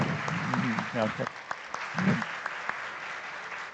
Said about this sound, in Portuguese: Vamos aplaudi-lo, vamos aplaudi-lo.